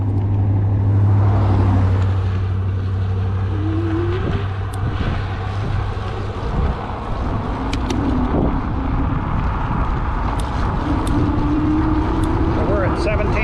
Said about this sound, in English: We'll wait till this car comes by.